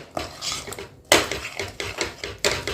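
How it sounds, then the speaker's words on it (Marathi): Jaggery and makhana stirred in a metal pan with a spoon, giving close, loud rhythmic scraping and clinking strokes that repeat steadily. "एकसारखं हलवत राहायचं"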